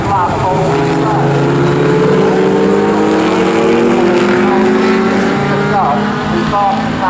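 Historic pre-1963 racing cars lap Snetterton circuit, loud engines rising and falling in overlapping Doppler sweeps as they pass close by, while a commentator talks over the continuous roar.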